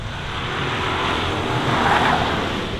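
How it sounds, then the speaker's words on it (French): Rally car in a youth rally slalom, coming back after a handbrake U-turn: a continuous, fairly loud engine roar that swells slightly as it approaches, heard alone with no talk. "il y a un demi-tour frein à main et oh bon on l'entend, il revient"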